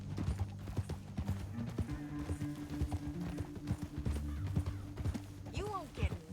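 Horse hooves clip-clop in a steady, fairly quick gait in the Red Dead Redemption 2 video game, with low mechanical hum beneath and a short whinny near the end; voices talk over the hoofbeats.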